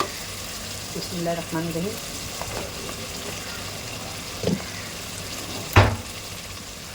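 Chicken methi bhaji masala roasts in a pan over a gas flame, a soft steady sizzle with occasional sharp clinks of the spoon stirring, and someone speaks briefly early on.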